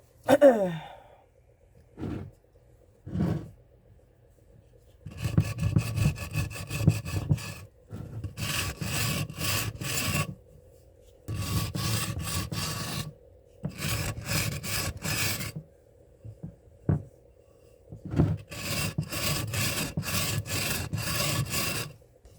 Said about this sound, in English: It's almost like sanding stone.